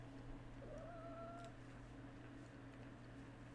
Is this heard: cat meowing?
yes